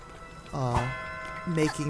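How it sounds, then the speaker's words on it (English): A Dweller Bell struck in the video game A Hat in Time rings out with a clear, resonant metallic tone that sustains briefly, and a second chime follows; a voice talks faintly underneath. "But if we hit this bell, we are able to go through it."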